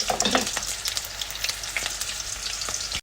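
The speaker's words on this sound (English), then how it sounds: "I've got a little bit of oil in the pan. I'm just going to heat it up, and I'm going to add the onion first." Onion frying in hot oil in a pan, browning for a lamb chop fry; a steady dense sizzle with crackling pops throughout, close and fairly loud, with a brief clatter near the start and no talk.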